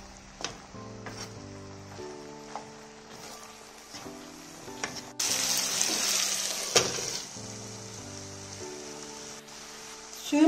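Water poured onto leftover pilaf in a hot pan bursts into a loud hiss for a few seconds amid scattered clinks of stirring and pan contact.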